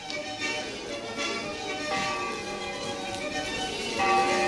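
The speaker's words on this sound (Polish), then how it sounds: "Biją dzwony, złote dzwony, coraz głośniej, prędzej." Easter church bells in Warmia and Masuria ringing continuously in an overlapping wash of tones, steady and fairly loud, with no voices.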